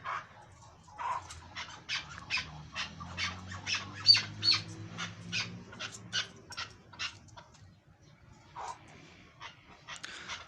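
Captive chukar partridges give a run of short, sharp squawking calls in irregular bursts at close range, with low murmuring and faint voices underneath and brief pauses between calls.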